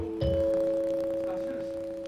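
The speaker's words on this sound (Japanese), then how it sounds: "チャイムが鳴りました。" A chime rings at a velodrome before the final of the 40th All-Star keirin race at Hiratsuka: a single bright electronic tone that sustains steadily over low crowd murmur.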